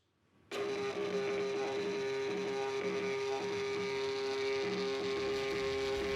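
An Evo 550 unit's built-in printer starts abruptly and runs a report with a steady, loud mechanical hum and whir that continues unbroken to the end.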